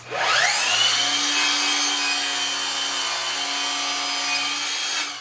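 A Milwaukee M18 Fuel cordless miter saw slices through a piece of wood trim about 4 1/2 inches wide with a loud, close, steady whining cut that holds for around five seconds before the motor begins to wind down.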